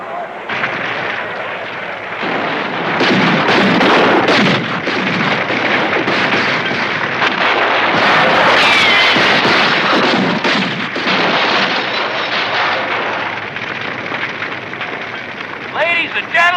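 Live ammunition gunfire rings out as dense, loud, continuous bursts, mixed with shouting voices and commotion.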